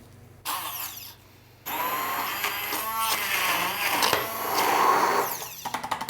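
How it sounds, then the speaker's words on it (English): An immersion blender whirs in bursts through an olive oil dressing, starting briefly, pausing, then running steadily for several seconds with a rising, grinding tone before cutting off. "we can take our immersion blender, which I have right below me plugged in, and we can just start blending"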